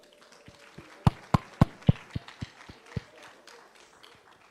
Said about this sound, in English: Please let's continue the applause.